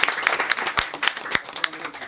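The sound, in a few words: audience applause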